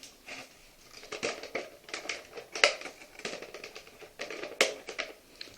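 Close, crisp snipping and cutting as scissors and a knife work through ties securing a Thundercats toy figure in its packaging, a run of sharp irregular clicks and crinkles with no talk.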